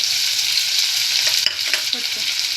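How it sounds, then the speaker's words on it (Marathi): Finely chopped onions fry in a pan for a potato bhaji, giving a loud, steady sizzle throughout with a few soft stirring scrapes near the middle and end. "लगेच आपण त्यामध्ये कांदा घालून घेणार आहे कांदा चांगला भाजणार आहे"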